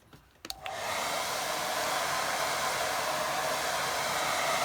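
A hair dryer switches on after a couple of faint clicks and blows steadily to dry a watercolour painting, a loud continuous whooshing roar held close to the end.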